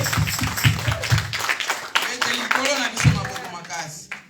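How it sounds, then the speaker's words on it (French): A church congregation claps for God, scattered hand claps mixed with voices and cheering at close range, fading out after a few seconds. "Vamos a aplaudir a nuestro Dios."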